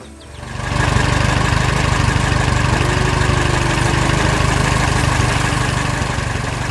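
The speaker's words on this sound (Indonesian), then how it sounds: "Traktor hijau dengan roda merah berjalan di jalan raya." Green tractor with red wheels driving on a road, its engine starting up and then running at a loud, steady, continuous drone close by, with no voices.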